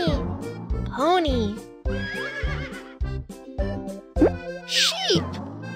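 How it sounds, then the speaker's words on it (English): A horse whinnies with a rising, quavering neigh amid bouncy toy-like plops and cheerful musical tones; a voice speaks briefly. "Pony."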